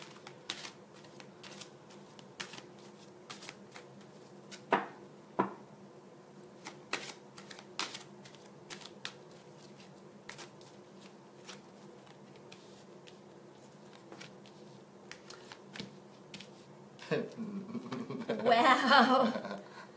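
A deck of tarot-style oracle cards being shuffled, quiet scattered flicks and riffles building to a denser, louder burst of shuffling near the end, with no talking.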